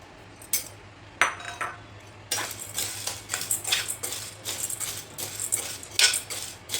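Dry chana dal, split Bengal gram, being roasted and stirred in a pan over a medium flame for chakli bhajani, giving repeated scraping clinks and rattles of a metal spoon against the pan, close and steady, with no talking.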